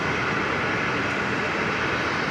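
A jet airliner roars on its takeoff run from runway 19 right at Brisbane Airport, a loud, steady broadband engine rumble and hiss filling the whole stretch without pause.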